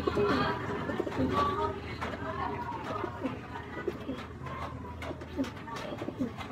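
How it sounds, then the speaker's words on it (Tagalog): Pet pigeons coo close by, soft low throaty calls repeating every second or so, with a faint murmur of other sounds in the background. "kailangan i-check natin yung ating mga kalapati"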